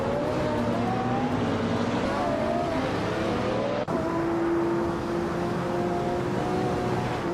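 A 1999 Lamborghini Diablo GTR race car engine drones steadily in a racing video game, pitch sliding as it revs, with a sharp shift midway to a higher sustained tone amid other cars.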